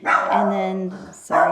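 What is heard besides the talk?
dog barking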